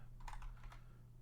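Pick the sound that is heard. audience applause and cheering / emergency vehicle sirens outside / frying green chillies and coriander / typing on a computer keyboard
typing on a computer keyboard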